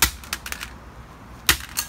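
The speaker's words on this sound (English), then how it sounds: "So we got a sledgehammer right here. Let's destroy this Xbox." Sledgehammer blows striking an Xbox controller: a cluster of sharp cracking impacts, then a pause and two more hard smacks, close and loud with no talking.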